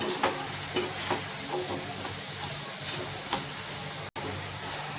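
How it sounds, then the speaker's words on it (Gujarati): Maggi noodles stirred into a cooked masala in a pan give a continuous soft sizzle with repeated scraping strokes of the spoon, close and fairly even, with a brief dropout near the end and no talking. "હવે આપણે જ્યાં મેગીના નૂડલ્સ છૂટા કરીને રાખ્યા છે તે લઈ લઈશું અને હલાવી લઈશું."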